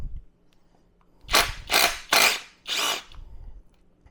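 Power tool working loose Loctited fasteners on a 2024 Yamaha YZ450FX during a stator upgrade: four close, loud bursts of whirring, each under a second, separated by short pauses in a quiet shop.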